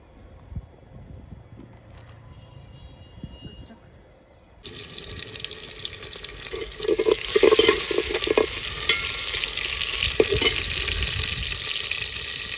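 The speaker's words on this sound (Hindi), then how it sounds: "अभी तड़का मैंने पकने के लिए रखा हुआ है" Tadka frying in a pan on a village kitchen stove, with steady sizzling and stirring scrapes that grow louder partway through and continue, plus faint clinks and background noise.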